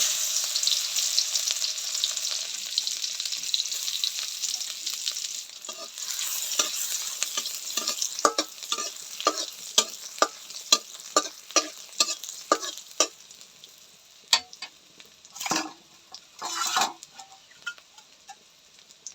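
Garlic sizzles and fries steadily in hot oil for a Bengali river-fish curry, then gives way to a series of sharp, regular stirring clicks of a spoon against the pan, ending with a few louder scrapes.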